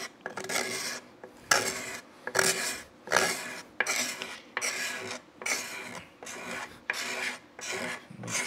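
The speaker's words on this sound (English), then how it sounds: "a scraper like this actually does work, removes a lot more shavings than sanding does." A hand scraper rasps across the rim of a wooden turned bowl, shaving off material and old wax in a steady series of about a dozen close, loud strokes, each a short scratchy burst with brief pauses between.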